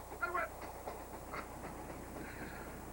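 A train rolls along railroad tracks with a soft, continuous rumble and rattling clatter, heard faint and steady, with a brief busier burst near the start.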